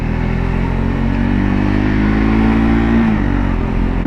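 A Triumph Scrambler 400 X motorcycle with a 398cc engine runs while riding: a loud, steady engine drone held close, with a brief rise in pitch midway before settling back.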